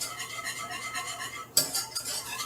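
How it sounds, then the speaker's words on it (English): A utensil stirs a butter and cheese sauce in a pan, soft repeated scraping and swishing with a sharper metallic clink partway through. "And just stir and make sure you get all of the lumps out of this sauce"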